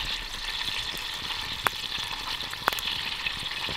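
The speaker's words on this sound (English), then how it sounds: "So we took the oil, put it in the pot, and now we're frying the grouse in it." Grouse meat frying in oyster oil in a pot at a mountain campsite during an elk hunt, giving a steady hiss with a couple of sharp pops, fairly quiet and close, with no talking.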